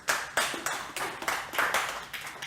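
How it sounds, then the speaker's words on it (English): An audience claps at a business talk, a quiet scattering of hands in an uneven rhythm of about eight or nine bursts, heard from a distance with no voices. "You guys should clap for him."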